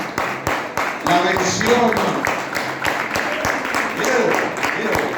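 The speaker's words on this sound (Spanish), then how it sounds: "Den un aplauso a Dios" Church congregation claps steadily beneath a preacher's impassioned Spanish sermon, scattered sharp claps running under his continuous voice.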